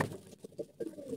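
Army beauty pigeons coo softly in a short series of low, muffled notes, close and faint, with no talk.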